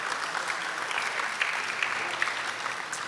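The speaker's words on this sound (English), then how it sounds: "Round of applause." Steady audience applause at an internet governance forum, many hands clapping at moderate volume in a room, continuous for a few seconds.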